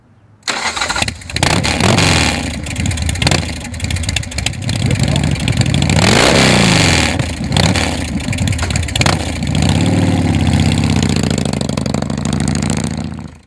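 A Bourget's Bike Works Python MT chopper motorcycle engine starts, then rumbles and revs loudly and close for over ten seconds.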